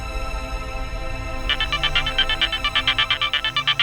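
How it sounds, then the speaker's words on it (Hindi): A mobile phone ringtone plays alone, starting partway through as a rapid pulsing electronic melody that repeats in short bursts and grows louder toward the end, over faint background hum. "वेद जी का फोन है"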